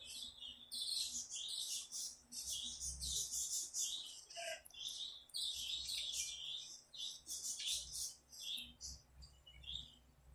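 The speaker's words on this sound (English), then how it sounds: "Those are my dad's birds" Many small birds chirp and tweet continuously in the background, dense high-pitched calls layered over a low steady hum, fairly distant and with no talking.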